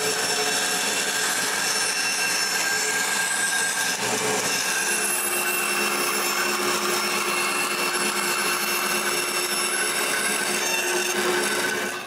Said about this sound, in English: I can tilt my bandsaw to this angle and cut the circle